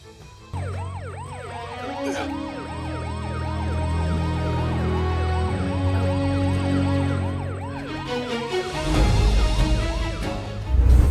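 Ambulance siren wailing steadily in rapid rising-and-falling sweeps, loud and close, over a low vehicle rumble, ending in a burst of louder noise.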